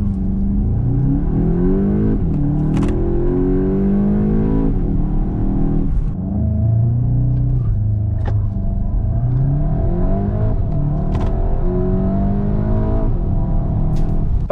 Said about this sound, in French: on va tester le launch control